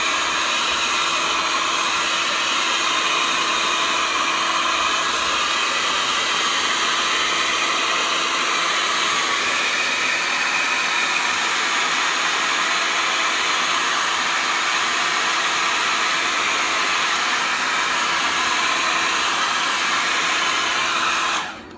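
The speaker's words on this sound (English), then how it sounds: "using the hairdryer in this to get it to dry." A hair dryer, drying spray paint art, blows loudly and steadily for the whole stretch, a constant whooshing roar that cuts off at the very end.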